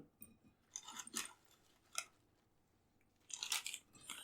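Skinny fast food fries being bitten and chewed up close, several crisp crunching bursts in irregular rhythm with quiet pauses between, no talking.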